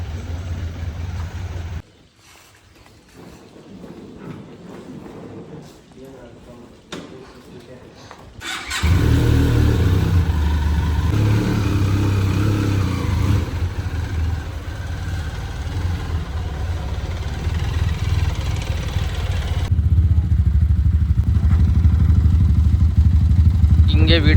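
A motorbike on a ride toward a home town: quiet talk in the first seconds, then a steady loud engine and road rumble sets in near the microphone and carries on to the end.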